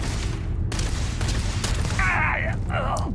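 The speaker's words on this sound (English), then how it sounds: "Are you throwing grenades at me?" Grenade blasts and gunfire from combat in the video game Starfield, dull booms and crackling shots layered over a steady loud game background, with whooshing effects near the end.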